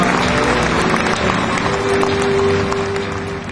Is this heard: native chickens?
no